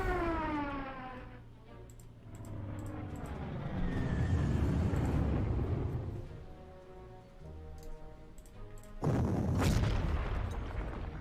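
Bombing run in the World War II strategy game Panzer Corps, with a wailing siren tone over deep rumbling blasts, a heavy roar swelling through the middle and a sharp loud burst near the end.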